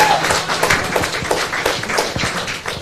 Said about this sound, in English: Everybody give Raj a big round of applause.